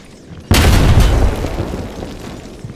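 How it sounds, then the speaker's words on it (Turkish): A thrown bomb in Stalker GAMMA goes off with one sudden, heavy boom that strikes hard and then rolls away into a fading rumble and scattered debris over a couple of seconds. "Bir bomba atayım bakayım."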